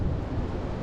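Wind buffets the microphone in a dense, rumbling low roar, steady and close, with no other sounds standing out.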